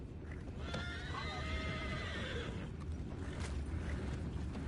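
Horses whinny loudly over a steady, noisy background in a video game, with faint hoof clops and creaking tack.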